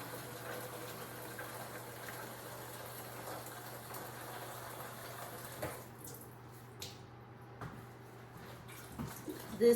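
Chicken stock pours steadily from a 48-ounce box into a pot with a soft, continuous gushing splash, followed by a few light clinks and knocks near the end.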